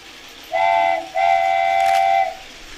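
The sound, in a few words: train running around the track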